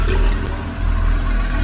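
Water leaks and drips in a horror video game, heard as a close, wet trickle with small liquid splashes over a low background hum. No one speaks.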